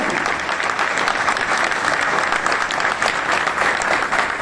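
An audience at a national convention in Sevagram, Wardha, applauding loudly and continuously, a thick sustained roar of many hands clapping close by.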